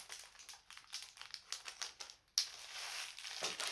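Close, crisp crinkling of small plastic packets, irregular rustles and crackles handled near the microphone, ending in a steadier, brighter rustle.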